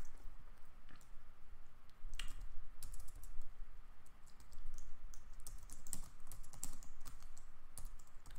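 Rapid, uneven keystrokes clatter close by on a computer keyboard as a command is entered, some short bursts and isolated clicks over a low hum, with no voices.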